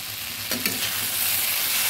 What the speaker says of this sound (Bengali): ছোলাগুলো আর সয়াবিনগুলো মশলার সাথে ভালোভাবেই ভেজে নিয়েছি